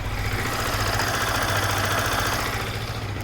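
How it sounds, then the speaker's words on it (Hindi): A 2025 Yamaha MT15 motorcycle engine idles steadily nearby, a constant low throbbing rumble with no change in pace and no voices. "आइए आइडल कंडीशन पर आपको इसका इंजन साउंड सुनवाता हूँ।"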